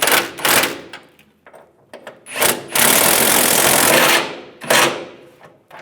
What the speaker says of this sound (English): And tighten the side nuts down.